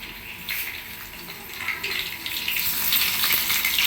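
Fenugreek, mustard and cumin seeds dropped into about 50 grams of hot oil, giving a steady hissing sizzle that builds and grows louder over a few seconds, close up with no talking.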